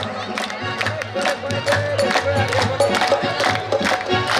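Rhythmic audience clapping at a kirtan, steady beats repeating over sustained devotional music and a low drone, with crowd voices mixed in.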